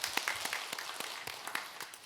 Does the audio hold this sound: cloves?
no